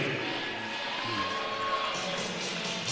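A stadium crowd at a night high school football game roars and cheers steadily as starters are announced, a dense continuous wash of voices heard from within the stands.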